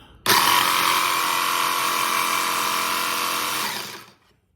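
A jigsaw cuts across the grain of plywood with a loud, steady buzzing rasp that starts abruptly and runs for almost four seconds before winding down and stopping.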